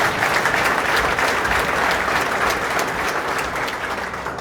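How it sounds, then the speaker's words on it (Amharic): A church congregation claps loudly and continuously in a dense, sustained round of applause that fills the room. "አጨብጭቡ።"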